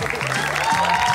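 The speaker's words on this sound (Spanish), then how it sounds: "Un aplauso para la bestia, Pop." A television studio audience bursts into brief applause with some crowd cheer, a short dense burst of clapping heard over background tones.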